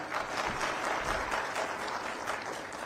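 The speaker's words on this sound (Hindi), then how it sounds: "जोरदार ताली बजाओ" Crowd applauding at a PM Kisan farmers' festival event, a continuous, fairly distant wash of many hands clapping at even strength, with faint low rumble beneath.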